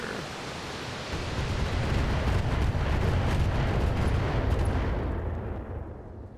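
An enemy mech blowing apart in Battletech: Heavy Metal, a loud sustained roaring blast with crackling debris that swells over a second, rumbles on for several seconds, then fades as the high end drops away.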